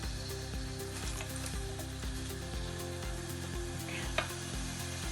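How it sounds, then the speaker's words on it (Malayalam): A homemade sugar wax mixture with lemon juice is stirred in a pan, giving a steady scraping, bubbling sizzle with a rhythmic stirring pattern, close and moderately quiet, with no talking. "ഇത് നല്ലപോലെ നമുക്ക് മിക്സ് ചെയ്ത് മെയിൻ എന്താണെന്ന് പറഞ്ഞാൽ നമ്മളിങ്ങനെ ഇളക്കിക്കൊണ്ടിരിക്കണം."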